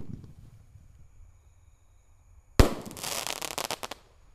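A large Bima Sakti 5 roman candle firework lit on the eve of Takbiran: a sudden sharp bang, then a rapid crackling, hissing burst lasting over a second, heard alone after a quiet pause.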